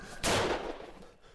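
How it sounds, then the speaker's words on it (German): A single sharp gunshot from a played video, a sudden loud crack that decays quickly into a short fading tail. "der hat mit einer Waffe geschossen"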